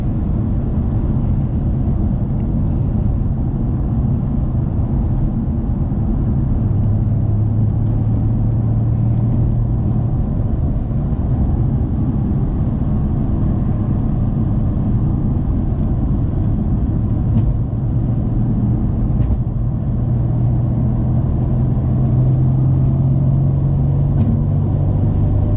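A Mercedes C63 S V8 engine drones steadily from inside the cabin while driving, with a deep continuous rumble and slow rises in pitch as it accelerates.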